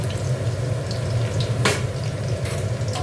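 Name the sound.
green and dried chillies frying in oil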